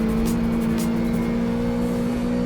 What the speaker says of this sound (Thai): เร่งเครื่องไม่ขึ้นเลยเว้ย